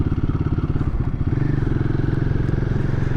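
A Royal Enfield Guerrilla 450 single-cylinder motorcycle ridden at low revs, a close, loud, steady rhythmic engine thump that shifts slightly in pitch partway through, with no talking.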